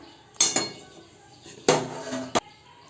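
Cooked food being served onto a plate with utensils, three sharp close clinks and scrapes of metal on dishware separated by quiet pauses.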